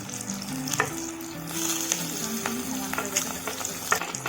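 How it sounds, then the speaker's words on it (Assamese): Square-cut onions sizzle in a hot pan for chilli chicken, a continuous crackling fry punctuated by the scrape and clatter of stirring, close and alone. "এয়া আমি ভাজি লৰাই আছো"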